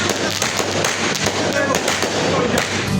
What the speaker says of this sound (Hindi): चिरागों के साथ मनचले पटाखे भी दाग रहे हैं